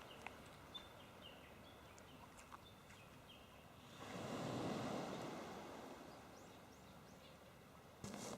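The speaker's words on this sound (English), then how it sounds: "There's nice sounding water." Gentle waves wash onto the shore of an island coast, a soft swell rising to a fuller surge midway before easing back, with faint bird calls scattered in a quiet outdoor setting.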